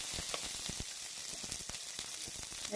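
Onions sizzle in hot oil in a kadai: a quiet, continuous frying hiss peppered with small pops and crackles, with nobody speaking.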